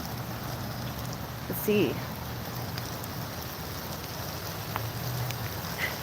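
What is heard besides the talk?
rain falling in the woods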